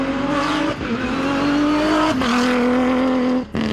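A loud Dacia race car engine by Alpine droning at a steady high pitch, with quick gear shifts breaking the tone, close and continuous.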